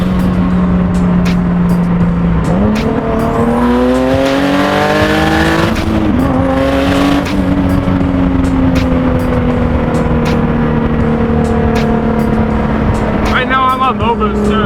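A Nissan 370z Nismo race car of about 600 wheel horsepower, running on low boost, roars loudly from close by as its engine pitch climbs and drops through several gear changes, steady throughout.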